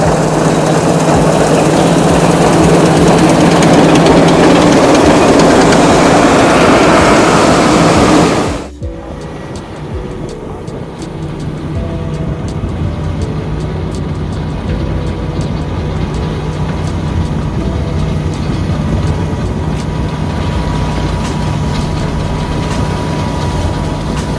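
An old green Claas Dominator combine harvester runs at full power during a wheat harvest, a steady heavy engine drone that drops abruptly in pitch and loudness partway through, then continues as a lower rumble.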